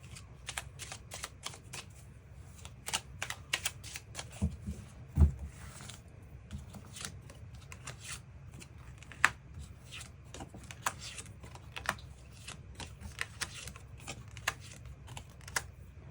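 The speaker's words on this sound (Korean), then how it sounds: "그 부분 추가 카드 뽑아보도록 하겠습니다" Tarot cards being shuffled during a love-fortune reading, a steady run of soft, crisp riffling flicks repeating close by through the clip, with no one speaking.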